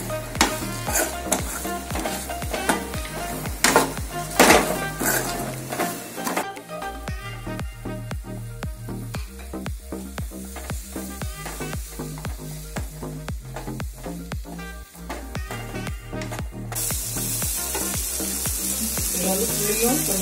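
Ingredients sautéing in oil for Mannargudi-style puli kulambu, a loud continuous sizzle with frequent rhythmic scraping and clinking of a utensil against the pan. A brighter hiss swells near the end.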